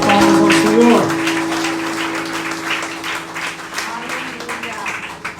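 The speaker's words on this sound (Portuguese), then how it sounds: "Uma salva de palmas ao Senhor." A congregation at Igreja de Nova Vida do Catete claps in praise to the Lord during a Sunday service, with a sustained held musical tone underneath at first and voices mixed into the ongoing applause.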